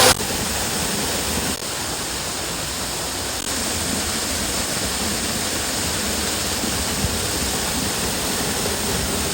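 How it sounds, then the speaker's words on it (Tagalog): A waterfall and river at Talaga River in Alaminos, Laguna, pour in a steady, full rushing roar that stays constant and close throughout, with no voices. "Yung waterfalls na nasa likod ko kanina, yung tubig niya, ito yun yung nasa likod ko din."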